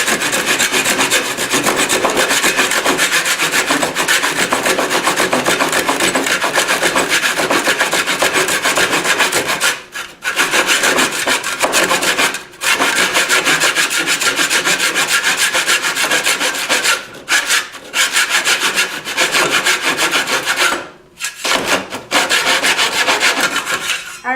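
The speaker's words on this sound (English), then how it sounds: "So I'm going to rest this saw on top of the flooring and just go ahead and get this out of here." A hand saw resting on vinyl plank flooring undercuts wooden door trim in steady, rasping back-and-forth strokes, loud and close, with a few brief pauses.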